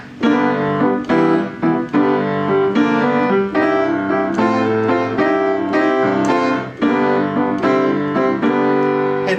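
Piano chords are played repeatedly with quick slides into each chord, giving a bluesy rhythmic pattern, loud and close with no talking.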